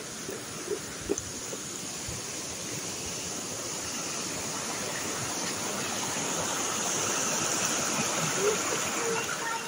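A small stream flows between rice fields, a steady, close rushing of water that swells slightly toward the end, with a few faint bumps near the start.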